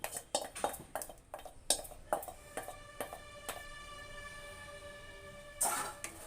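Maida flour batter for halwa stirred in a pan, a utensil scraping and clinking against the metal in irregular, fairly close strikes with ringing tones, no talk.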